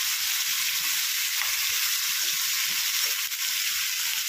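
Brinjal fries in oil in a pan, North Karnataka style, giving a loud, continuous hissing sizzle that holds steady throughout, close up and uninterrupted.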